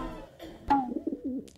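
A pigeon coos in a brief sound effect: a short throaty warble rolling over about a second, close and clear after a faint soft onset.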